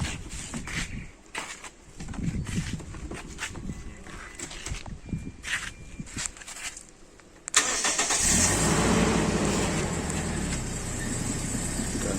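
A petrol Toyota Innova engine runs near at idle amid clattering and handling noise, then after a sharp knock rises to a steady, louder hum when the speed is raised to 2000 rpm.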